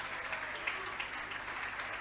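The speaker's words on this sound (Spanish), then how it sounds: "Denle un aplauso a mi actor." A church congregation claps for a volunteer who has just acted out a demonstration during a sermon: a soft, even patter of applause from a room of people, fairly distant and steady throughout.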